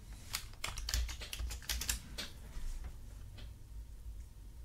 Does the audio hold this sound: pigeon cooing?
no